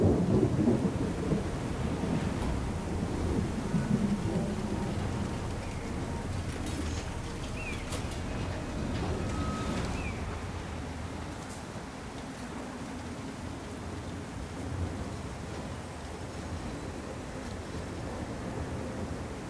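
A thunderstorm in the video game Syberia: The World Before, with rolling thunder and a steady hiss of rain filling the background, fairly quiet and without speech.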